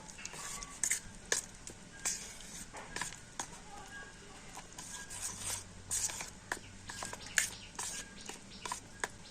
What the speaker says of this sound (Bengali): তো চামচ দিয়ে একটু মিশিয়ে নিয়ে